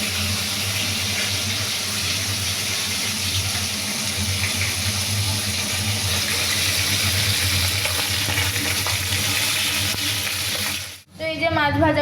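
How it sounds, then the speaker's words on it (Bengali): Fish frying in hot oil in a home kitchen pan, a loud continuous hiss and crackle heard up close that cuts out abruptly near the end before resuming briefly. "তো এই যে মাছ ভাজাটা হয়ে গেল,"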